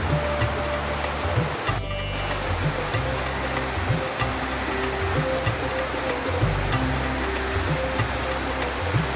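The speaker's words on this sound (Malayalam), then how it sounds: "പാറക്കല്ലുകളിൽ തലതല്ലി സംഹാരരുദ്രയായി ഒഴുകുന്ന നദി" A Himalayan mountain river on the road toward Budhi rushes hard over rocks. It makes a loud, steady roar that fills the whole stretch without a break, and no one speaks.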